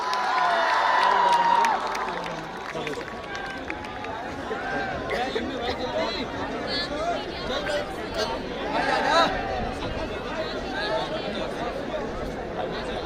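Large audience at an anti-drug event cheering with enthusiasm, a loud surge of shouting at first that settles into steady crowd chatter and scattered cheers, with voices mixed throughout.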